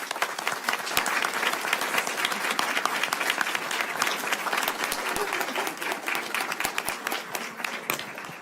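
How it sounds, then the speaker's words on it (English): An audience at a board meeting gives a round of applause, a full, steady wash of many hands clapping that holds from start to finish and eases slightly at the end. "if we can please give them a round of applause"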